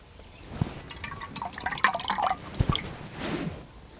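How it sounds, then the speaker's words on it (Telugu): Soaked idli rava is squeezed by hand to press the water out, and the water falls in quiet, close, scattered drips and small trickles with brief soft splashes. "దానిలో నీళ్ళన్ని వంపేసి రెండు చేతులతో ఇదిగో ఈ విధంగా పిండుకొని"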